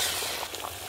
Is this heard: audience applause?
no